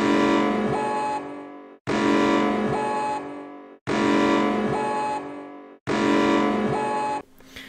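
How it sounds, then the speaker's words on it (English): A Greek emergency alert tone plays in the reactor stage of the game Infectious Smile after the core is set to malfunction: four loud, harsh, buzzing blasts of about two seconds each, separated by short gaps. "In the reactor stage, once the core has been set to malfunction, the Greek EAS starts to play."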